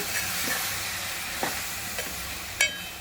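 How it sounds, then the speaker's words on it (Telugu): A cucumber and tomato curry is stirred in a frying pan, soft sizzling running steadily under a few scraping clinks of the spoon, close and fairly quiet. "ఇదిగోండి ఇట్లా కలిపేసుకొని దోసకాయ కూర"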